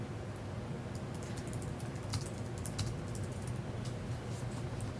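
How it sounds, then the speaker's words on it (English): Steady typing on a computer keyboard, rapid irregular key clicks running continuously at moderate volume over a low background hum. "we can type in his notes"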